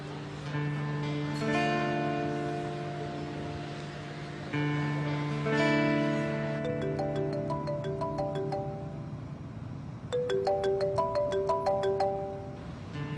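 An electronic phone ringtone plays a repeating melodic tone pattern, steady and fairly loud, with no voices over it.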